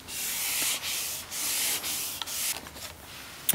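Sandpaper being rubbed by hand on the wood of an Epiphone Les Paul–style guitar neck under repair, a close, hissing scratch in repeated back-and-forth strokes with brief pauses between them.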